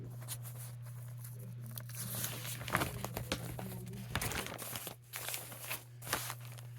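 An old newspaper, part of an Asheville Citizen from the moon landing era, is unfolded and handled, giving a steady run of close crinkles, rustles and crackles over several seconds with a low background hum and no talking.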